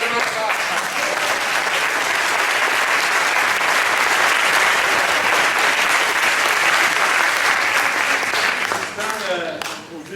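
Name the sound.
audience applause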